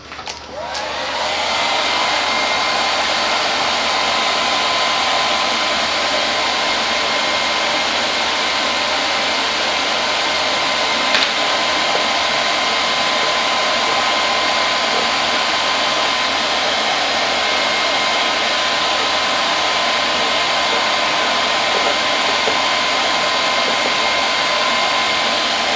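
A heat gun blows hot air across vinyl wrap on a custom Apex RX-1 hood, a steady loud fan roar and hiss running unbroken for the whole stretch, with no one talking.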